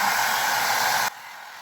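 A steady, airy whir of a hair dryer on a low setting, running loudly and evenly, then dropping to a softer hum for the last half second.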